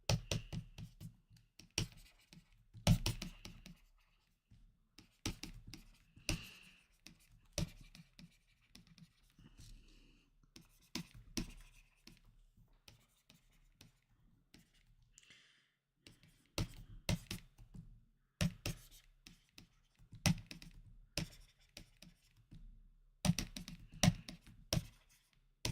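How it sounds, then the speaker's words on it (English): Handwriting during an algebra lesson: quiet, close scratchy strokes in short intermittent bursts, separated by silent gaps. "let's write this down"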